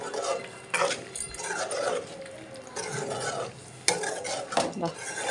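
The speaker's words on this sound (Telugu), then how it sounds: "కస్తూరి మేతి అయితే వేసేసి ఒక్కసారి కలిపేసేద్దాం" Spoon stirring kasuri methi through paneer curry in a pan, with steady scraping and clinking of utensil against the pot, light sizzling underneath and a sharp clank near the end.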